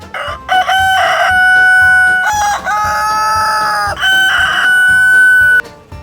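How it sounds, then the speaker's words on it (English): Several roosters crow close and loud in overlapping cock-a-doodle-doo calls, one after another, with clucking from other fowl underneath. "Why do my roosters crow all day long?"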